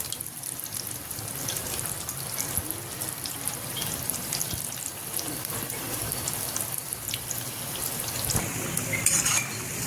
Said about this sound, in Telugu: మీడియం పెట్టుకొని ఫ్లేమ్ ఇలా ఫ్రై చేసుకోవాలి.